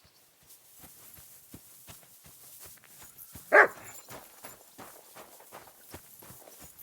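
A lone dog bark bursts out in a medieval village in Kingdom Come Deliverance 2, short and fairly close, over a steady patter of walking footsteps.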